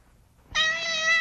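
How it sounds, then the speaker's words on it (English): A cat, a gray tabby, lets out a single clear, sustained meow, close and fairly loud, after a moment of quiet room tone in a sheriff's office. "Hey, get that cat out of here."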